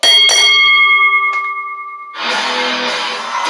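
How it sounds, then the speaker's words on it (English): A wrestling ring bell is struck a few times right after a pinfall at a televised IMPACT match, its ringing tones lingering loud and clear for about two seconds before a roaring arena crowd takes over. "ring the bell"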